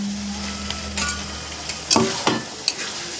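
Goat fat drops into a pot of cooking goat meat, setting off a steady low sizzle, with a few sharp clinks and stirring scrapes rising above it up close.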